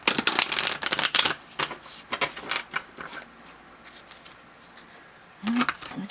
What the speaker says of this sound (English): I'll shuffle these a little bit more.